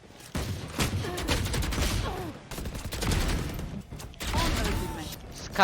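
Rapid gunfire in the Valorant video game crackles in dense bursts of sharp shots, loud and close, with brief pauses between volleys.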